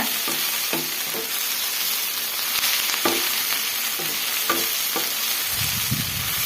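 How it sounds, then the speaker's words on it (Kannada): Tamarind and onion fry in oil for an onion chutney, with a continuous close sizzle broken by repeated scraping stirs of a spatula against the pan. "ಹುಣಸೆ ಹಣ್ಣನ್ನು ಈರುಳ್ಳಿ ಜೊತೆ ಚೆನ್ನಾಗಿ ಫ್ರೈ ಮಾಡ್ಕೊಬೇಕು."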